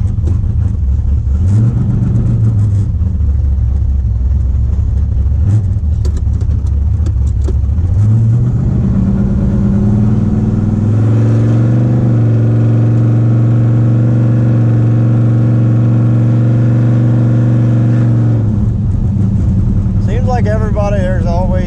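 A cammed, straight-piped Camaro making over 500 hp, fitted with Dynomax Bullet mufflers, revs loudly and then pulls hard with a long, rising, deep engine roar. It backs off near the end, and a voice cuts in briefly at the close.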